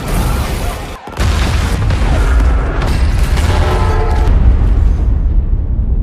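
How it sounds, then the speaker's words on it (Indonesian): A large film explosion booms loud and close, with a sharp blast, a brief drop-out and then a long, dense roaring rumble that slowly fades. "Melihat ada ledakan besar"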